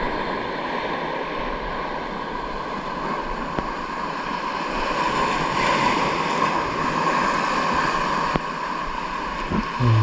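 Rough open sea washes and churns around a small fishing boat, a continuous close surge of water mixed with gusting wind noise across the microphone.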